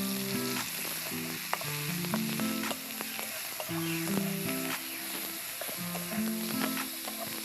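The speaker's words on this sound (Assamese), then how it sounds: "তাৰপিছত ৰচুন আদা পেষ্টটো দি দিছে।" Garlic ginger paste sizzling and frying in a hot pan, loud and continuous, with occasional stirring scrapes over the steady crackle.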